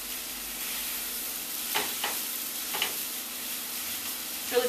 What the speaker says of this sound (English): Now when I'm browning up this sausage, I like to just flatten it out, spread it out in the pan.